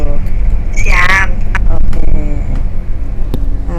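The low, steady rumble of a bus cruising along a highway fills the cabin, broken by a brief bright squeal and a few clicks, while a person talks over the road noise.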